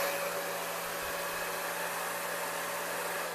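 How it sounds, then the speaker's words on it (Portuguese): A salon hair dryer set to maximum heat and speed, drying a client's hair for a taper fade haircut, blowing in a loud, steady, continuous rush of air close by, with no talk. "Primeiro a gente vai usar o secador. O secador sempre tem que estar no máximo."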